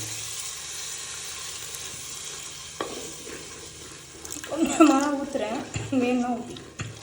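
A steady sizzle from a hot pan, then tamarind water is poured into an ayirai fish curry, causing a louder bubbling, hissing burst before settling; a voice speaks partway through.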